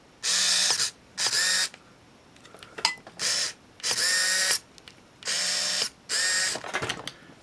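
A Minolta Maxxum 7000 film camera shutter fires six times in a row at a one-second shutter speed, each a loud whirring mechanical buzz lasting about half a second, with faint clicks between.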